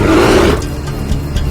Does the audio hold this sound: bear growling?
yes